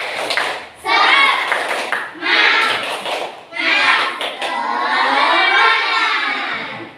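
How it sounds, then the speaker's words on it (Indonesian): A group of schoolchildren in a primary classroom shout and clap together in loud bursts, several rhythmic rounds separated by short pauses, with an adult voice leading between them. "Coba kalau semangat kita tepuk dulu,"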